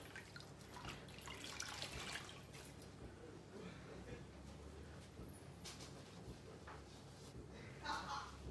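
Rinsing the face with water during a skincare routine, faint splashing and dripping close by with soft water sounds, while someone talks in French.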